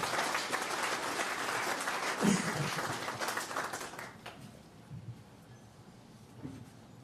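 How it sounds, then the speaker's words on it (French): Audience applauding at the closing speech of a land-tenure week conference, steady dense clapping for about four seconds that then thins out and fades into room noise. "Je vous invite à applaudir pour vous-même."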